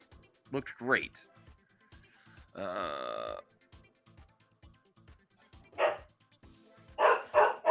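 A human voice imitates a dog, giving a few short yipping barks, a drawn-out whining tone and a final cluster of rough barks, close with quiet gaps between.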